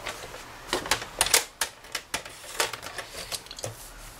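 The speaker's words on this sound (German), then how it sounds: "Dafür brauche ich den Papierschneider, um einen Falz erstmal zu setzen." A paper trimmer scoring a fold line into cardstock for a handmade card, heard as a series of sharp, close clicking and scraping taps in an uneven rhythm, with no voice.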